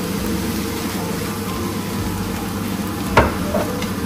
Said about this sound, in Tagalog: So, gigisa-gisa lang natin.